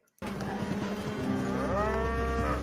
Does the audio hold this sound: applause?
no